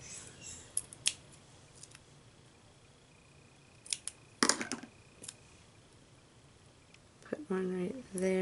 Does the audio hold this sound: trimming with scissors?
yes